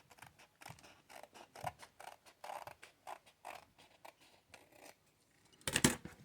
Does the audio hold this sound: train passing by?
no